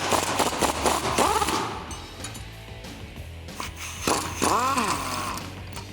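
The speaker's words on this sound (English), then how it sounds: "we're gonna use a 21mm wrench and a 21mm socket to take this bottom bolt out" A ratchet turning a 21mm socket on the bottom shock bolt of a 2014-2018 Chevrolet Silverado 1500 during a lift kit install, giving close, fast bursts of clicking with pauses between strokes in a shop.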